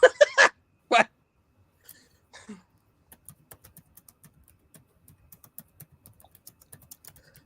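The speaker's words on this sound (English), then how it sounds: "Oh, you're typing it out?" A few loud clicks at the start, then a steady run of soft keyboard taps, quick and irregular, fairly close.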